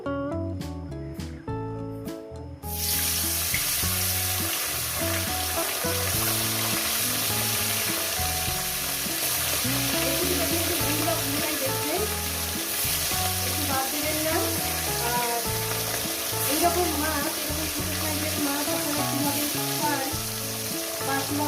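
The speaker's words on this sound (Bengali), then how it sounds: "তেলটা আমার গরম হয়ে গেছে দেখুন তেল আমার গরম হয়ে গেছে আমি এখানে এক এক করে মাছগুলো ছেড়ে দেবো" Small whole fish frying in a pan of hot oil, a steady dense crackling sizzle that stays loud and close after a few sharp clatters at the start, with no talking.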